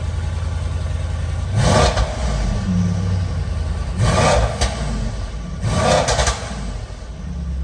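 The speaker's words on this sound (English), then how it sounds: "That burble sounds good, man." A Mercedes E63s with a stage 2 tune and decat revs hard in race mode, three loud blips roughly two seconds apart rising over a steady idle burble, with crackles trailing each rev.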